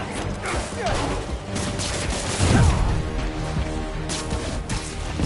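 Gunfire and combat clatter in Spider-Man: Miles Morales, scattered shots and crashing impacts mixed with mechanical game effects and a low thump midway, with voices in the game talking.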